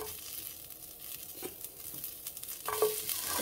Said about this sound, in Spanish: Que voy a que se ponga un poco la cebolla cristalina, pero está muy caliente.